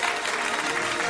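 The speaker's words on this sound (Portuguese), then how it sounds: "uma salva de palmas" Studio audience applause on a Brazilian comedy sketch show: a short, continuous burst of dense clapping from a crowd, loud and steady throughout.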